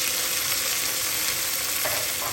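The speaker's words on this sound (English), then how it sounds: "The onion getting fried." Onion frying in a pan on the stove for spicy chicken, giving a steady, even sizzle that stays constant throughout with no talking.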